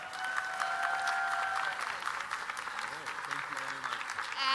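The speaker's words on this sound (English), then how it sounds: "could we give a big round of applause to Tracy and Allard?" A gala audience gives a warm round of applause, the broad clapping holding steady for several seconds at moderate distance, with faint voices and a tonal hum mixed in.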